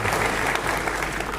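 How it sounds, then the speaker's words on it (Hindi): A public gathering claps in a brief, dense burst of applause, steady and loud from start to end, with a few voices faintly under it. "जरा उनके लिए भी तालियां बजा दीजिए।"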